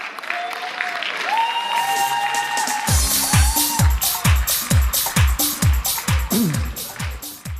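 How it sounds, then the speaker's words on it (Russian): Applause for a philology faculty team at a regional KVN comedy league quarterfinal, starting as a loose crowd noise and swelling into steady rhythmic clapping from a large audience in a hall. "Аплодисменты."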